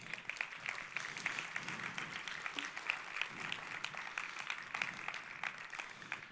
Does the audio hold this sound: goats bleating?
no